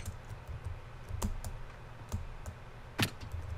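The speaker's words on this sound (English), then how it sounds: "I keep pressing control instead of shift." Computer keyboard keys pressed during a parkour game, a few scattered sharp clicks over a steady low background hum, with a louder cluster of presses near the end.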